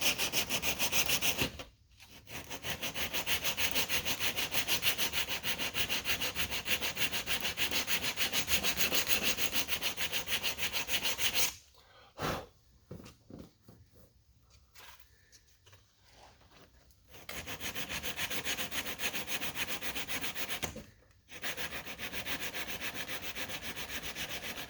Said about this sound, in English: That's why you have to sand.